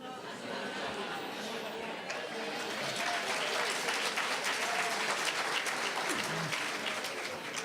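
A crowd applauding steadily, a dense wash of clapping that swells slightly and carries on throughout.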